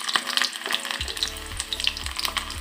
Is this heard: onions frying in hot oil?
yes